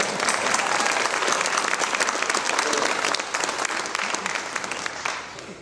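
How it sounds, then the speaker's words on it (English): At a hall of fame induction ceremony, an audience breaks into sustained applause, a dense, even wash of many hands clapping that holds steady and fades slightly near the end. "I think we owe Mr. Brandt a round of applause."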